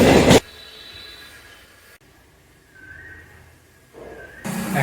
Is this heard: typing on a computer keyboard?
no